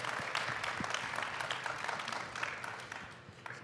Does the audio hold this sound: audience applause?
yes